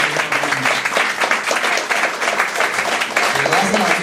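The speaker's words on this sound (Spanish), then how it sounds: "Dale una ofrenda de aplauso al Señor." Loud congregation applause in a church worship service, dense rhythmic clapping with voices mixed in, close and energetic throughout.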